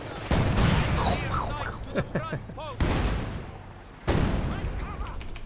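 Artillery gun firing a barrage of shells in the video game Company of Heroes 2: several sharp, loud blasts with rumbling tails, spaced a second or more apart, alongside whistling incoming shells, and a voice talking over it.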